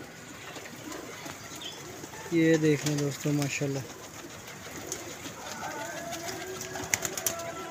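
Pigeons coo in a clear rhythmic series of low throaty notes in the middle, against outdoor background noise, while someone talks over the scene.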